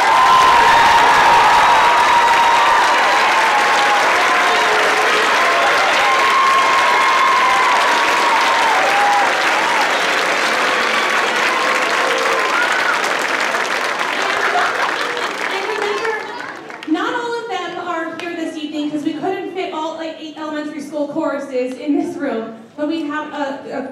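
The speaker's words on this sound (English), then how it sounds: "Please clap for them." Loud, sustained applause from a large audience at a school district choral concert, with some cheering mixed in, fading out as a voice starts speaking near the end.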